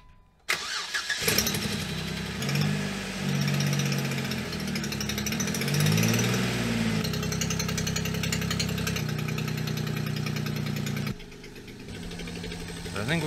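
A Jeep Wrangler JKU engine cranks and catches, revving up before settling into a loud, steady idle that drops off near the end.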